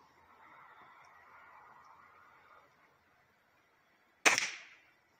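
Cheap .177 or .22 pellet air gun fires once at a target, a single sharp close crack with a brief decay after a low stretch of faint background noise.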